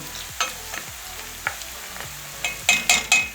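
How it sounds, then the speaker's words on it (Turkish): Red onions sautéing in a pan for beetroot sauté: a close sizzle with rhythmic spatula scrapes that grow louder and quicker toward the end, no talking. "Soğanlarım çok güzel sotelendi."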